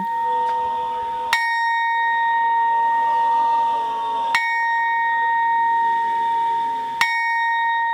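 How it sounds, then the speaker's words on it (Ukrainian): A memorial bell tolls slowly at a ceremony in Ivano-Frankivsk, three strikes a few seconds apart, each leaving a long ringing, humming tone that fades before the next. "За ними пролунав дзвін пам'яті"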